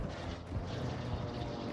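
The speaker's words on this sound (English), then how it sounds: "Oh, the chopper." A helicopter flies in the video game Warzone 2, a continuous rotor and engine drone with steady broadband noise, moderately loud and with no talk over it.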